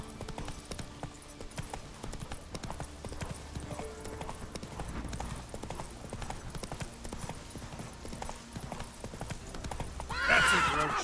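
Roach, a horse in The Witcher 3, gallops with steady rhythmic clip-clop hoofbeats throughout, then gives a loud, bright whinny near the end, with faint game ambience beneath.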